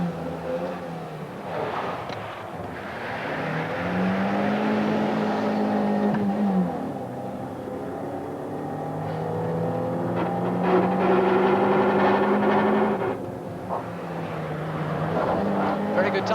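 Derek Bell's race car drives at speed with a steady engine roar and rising, falling pitch, while a commentator talks over the sound throughout.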